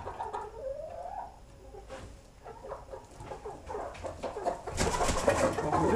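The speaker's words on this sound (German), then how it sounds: "Jetzt lassen wir mal die Hühner raus" Chickens let out of their coop on a small farm: clucking and cooing close by, with scattered rustling and a busier burst of activity near the end, and no talking.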